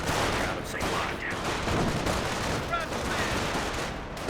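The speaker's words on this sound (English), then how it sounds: "Our squad takes some fire there." Gunfire rakes an infantry squad in the WWII strategy game Company of Heroes, a dense continuous rattle of rifle and machine-gun shots over a busy battlefield din, with faint voices mixed in.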